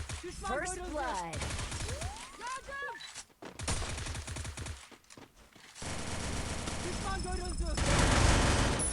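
Rapid automatic gunfire bursts rattle through a Free Fire battle royale match, loud and repeated in several volleys, mixed with other in-game effects and a player's voice talking.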